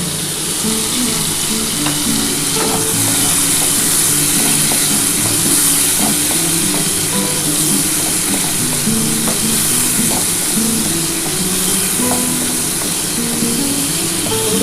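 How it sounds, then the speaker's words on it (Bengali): Shrimp frying in hot oil in a pan with ginger, whole cumin and green chillies, a steady close sizzle with faint stirring clicks throughout and no talk. "বন্ধুরা দেখো আমার কিন্তু চিংড়ি মাছটা ভাজা হয়ে গেছে"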